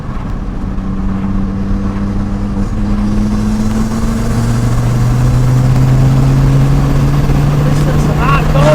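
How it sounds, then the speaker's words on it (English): A 2.5-litre five-cylinder engine with a turbo, fitted in a Ford Escort, drones steadily under load while driving, its pitch slowly rising through a long pull in one gear, loud and continuous with a faint high whine on top. "the 5-cylinder distinctive noise, it just sounds awesome"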